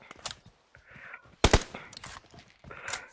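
Gunfire in the mobile battle-royale game PUBG Mobile: a loud close burst of shots at mid-clip with a few fainter shots around it, under intermittent excited talk.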